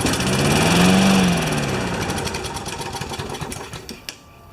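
Older Husqvarna lawn mower engine firing on a pull start, a brief sputtering putter that runs a few seconds with rapid ticking pulses before dying out.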